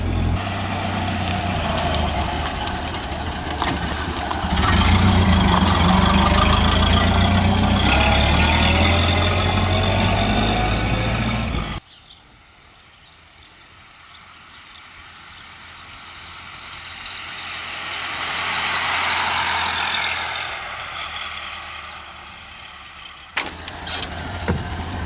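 The engine of a 1930 Ford Model A with a rebuilt transmission runs loudly with a steady rumbling drone, then drops sharply to a quieter running hum that swells and fades as the car moves forward.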